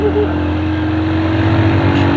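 A motorcycle carrying four riders, two adults and two children, labours up a steep road at Fort Munro, its engine droning steadily and close throughout with no talk over it.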